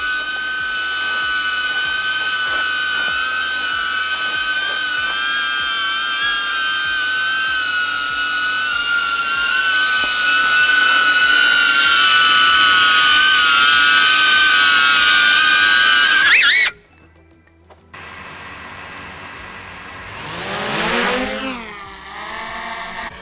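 A DJI Mini 3 Pro drone flying, giving a steady high-pitched propeller whine that holds close and loud for about sixteen seconds, then cuts out abruptly and returns fainter with rising pitch as the drone climbs away.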